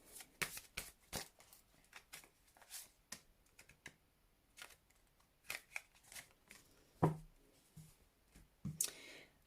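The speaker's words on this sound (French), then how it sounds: "Donc, je vais mettre deux cartes." Tarot cards laid out on a table, a quiet series of crisp slaps, flicks and shuffling rustles at irregular intervals, close up and sparse, with soft pauses between.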